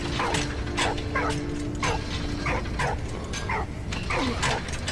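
A dog barks in the video game Valiant Hearts, with about a dozen short, sharp barks spaced irregularly over a bed of clanking mechanical game sounds.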